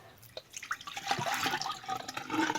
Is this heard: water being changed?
yes